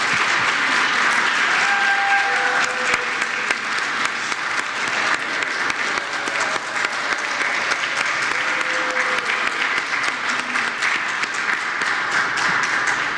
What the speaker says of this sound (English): give Teresa Raymond a huge round of applause